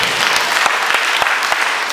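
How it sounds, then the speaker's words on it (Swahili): A church congregation applauding during a Sunday service, a dense, steady wash of clapping from many hands, loud and close throughout. "Ongeza makofi kwa huyo Yesu wetu."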